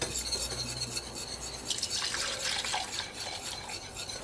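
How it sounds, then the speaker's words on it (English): Milk being whisked into a mixture for a potato side dish: brisk wire-whisk strokes scrape and splash in a bowl, growing busier and more rhythmic midway, close up with no voices. "So with a whisk, we're going to slowly add our milk. And let's whisk it all in."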